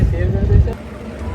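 Traditional sailing boat moving slowly on the Kundalika creek in light wind while practising for a race: a low rumble of wind and water close to the microphone, fading after a moment, with a voice speaking over it.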